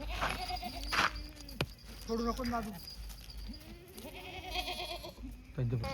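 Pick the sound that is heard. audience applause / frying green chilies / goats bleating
goats bleating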